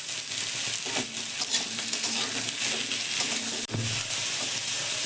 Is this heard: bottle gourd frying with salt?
yes